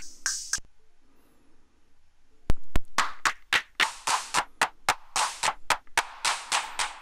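Prok Eurorack drum module playing its clap sound, a steady sequenced run of sharp, snappy electronic claps with short noisy tails, loud and close, starting after a short silence.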